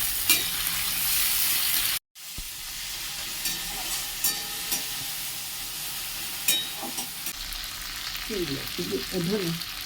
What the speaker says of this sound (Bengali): ভালো করে কষবে মশলাগুলো